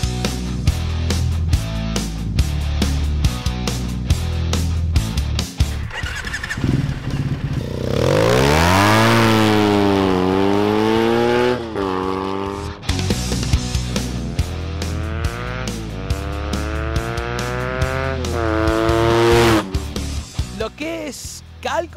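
A Triumph Thruxton 900 motorcycle revs and rides by, its engine note climbing and falling through several gear changes, loud and close, with clattering mechanical noise between the pulls.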